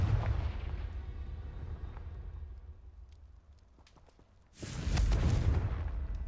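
Confringo blasting spell in the Hogwarts Legacy video game: a loud, rumbling game blast over a dense din of combat noise, fading briefly before a second powerful burst erupts and roars on.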